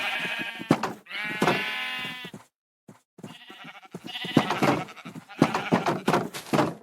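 Sheep in Minecraft bleating several times in quick succession, close and clear with a wavering tone, a short silent gap, then more overlapping bleats from the pen.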